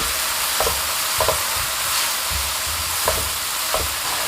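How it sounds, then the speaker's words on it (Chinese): Vegetables and soaked glass noodles stir-fried in a wok with dark and light soy sauce, Sichuan pepper powder, chicken bouillon and salt, giving a steady low sizzle with a few soft spatula scrapes and taps at irregular intervals. "生抽提味， 加入少许的花椒粉、 鸡精、盐， 翻炒均匀。"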